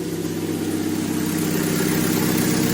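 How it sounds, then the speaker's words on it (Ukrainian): A Fiat Panda 1.1/1.2 petrol engine idles steadily just after starting, following fuel injector replacement; a loud, even, close-up hum with a smooth low rumble and no revving. "Машина завелася"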